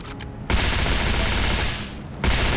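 Rapid bursts of gunfire in the Last Island of Survival video game, loud and sustained as continuous automatic fire for nearly two seconds.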